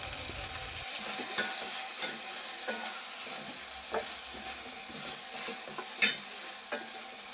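Tomato pieces with salt and turmeric being stirred into hot oil in a pan, with a steady sizzle of frying under repeated scraping spoon strokes throughout, close and moderately loud.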